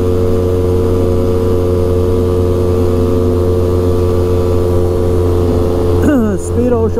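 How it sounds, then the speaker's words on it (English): A 2000 Polaris Xplorer 400 4x4 ATV runs at full throttle on soft, muddy ground, its engine holding a steady loud drone with no break, briefly shifting pitch near the end. "This is full throttle right here."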